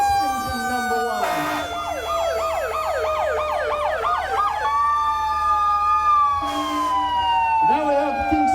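Groveland, Massachusetts fire engine number 1 in a Santa parade sounds its siren nearby: a loud, rapidly warbling wail that settles into a long rising and falling tone, with a brief air-horn-like blast, over street noise and crowd voices.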